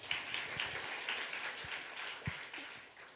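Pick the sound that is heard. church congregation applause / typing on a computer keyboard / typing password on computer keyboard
church congregation applause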